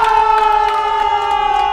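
Crowd cheering and shouting at a girls' team bowling final at the European Youth Championship, loud and sustained throughout with a steady high tone running underneath.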